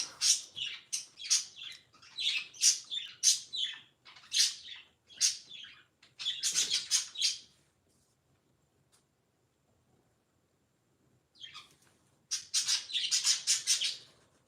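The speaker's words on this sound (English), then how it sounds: "my birds. They're always so loud." Loud, rapid chirping and squawking from pet birds in bursts, pausing into near silence before another noisy flurry of calls.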